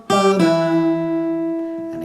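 A guitar phrase from a song played with a pull-off and a slide: a bright plucked chord rings out loud and close, shifts pitch partway through, and sustains alone without talk.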